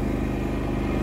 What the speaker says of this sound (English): You can hear the industrial sound of the BDU-10 transmission.